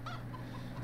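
Chickens cluck in the farmyard of Farming Simulator 17 with the Seasons mod, including a homing rooster; a short, steady burst of clucking over a constant low game hum, with no talking.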